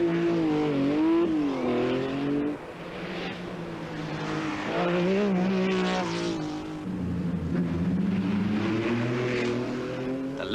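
Rally cars race flat out along a road stage at the 1985 Corsica Rally, engines screaming and shifting pitch through gear changes, loud and sustained as they pass nearby.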